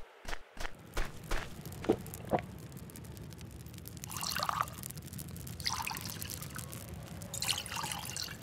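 A bucket fills with water in the farming game Farmer's Life, with a steady trickling pour under a few sharp clicks and footsteps at the start, close and moderately loud with no talking.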